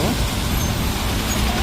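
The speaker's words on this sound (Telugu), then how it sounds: "అట్లా బస్సు వచ్చింది ఫ్రెండ్స్." A deluxe express bus pulls into a bus station late on a rainy night, its engine rumble and traffic noise filling the scene in a steady, loud wash with no break.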